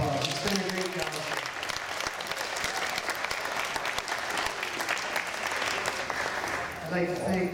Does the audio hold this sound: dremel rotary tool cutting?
no